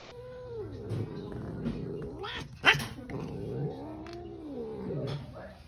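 A cat with a bag caught on its tail yowls and growls in long, wavering caterwauls close by, with a brief rustle midway and a person speaking faintly in the background.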